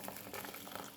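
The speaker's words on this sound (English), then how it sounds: "pour your water" Water poured into a pan on a hob, a brief steady splashing rush heard close up for about a second, quiet and continuous with no voices.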